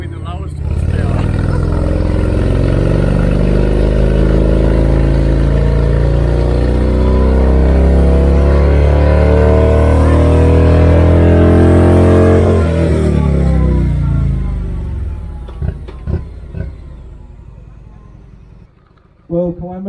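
A motorcycle engine roars loudly and steadily while being revved on a dyno, holding high revs for about twelve seconds before winding down to idle and a few clanks.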